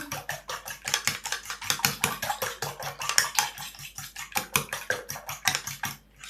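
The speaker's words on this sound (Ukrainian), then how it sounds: "вилочкою це розмішую." A fork beats eggs with paprika and seasoning rapidly against the inside of a bowl, a quick steady clatter of metal on dish that continues for several seconds.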